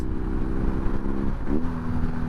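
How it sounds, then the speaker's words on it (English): A 2022 BMW R NineT Scrambler motorcycle engine drones loud and close, then drops and blips back up as it downshifts, settling into a steady lower hum. "Those downshifts sound really nice."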